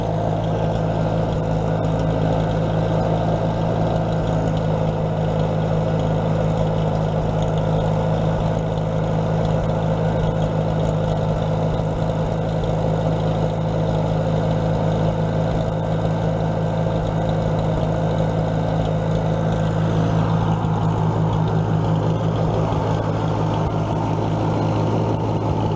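A 1944 Minneapolis Moline ZTU tractor engine runs at high RPM, a loud, close, unbroken drone with a steady throb that holds for the whole stretch and shifts slightly near the end.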